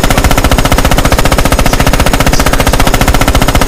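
Automatic machine gun fire from a World War II shooter, Red Orchestra: a continuous rapid stream of loud, close shots with steady rhythm and no pauses, heard alone without voices.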